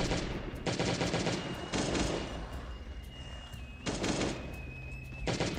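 Rapid AK rifle bursts in the survival video game Last Day on Earth, several loud automatic volleys separated by short pauses, with a faint steady tone lingering underneath.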